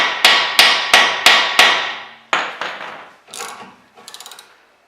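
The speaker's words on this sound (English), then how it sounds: "Sometimes I like to get it kind of tight, then hammer just a little." Sharp metallic hammer strikes on a suspension part during strut replacement on a 2015-2018 Jeep Cherokee ring out in a steady series, about five even blows, then a few more spaced hits and a short rattling clatter.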